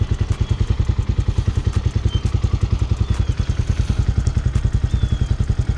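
A Hawk 250cc dual sport motorcycle warms up at idle nearby, its single-cylinder engine thumping in a loud, steady, even rhythm throughout, with light mechanical clatter on top.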